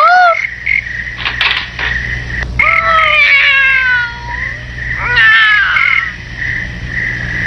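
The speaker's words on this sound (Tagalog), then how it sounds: "Meow!" A cat gives a string of loud, close meows, drawn out and bending in pitch, several in a row with short gaps, alone without any talk.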